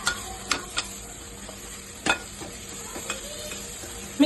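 Chilli powder frying in hot oil in a pan, stirred with a spoon: a steady soft sizzle broken by several sharp scraping strokes against the pan, close by and with no voices.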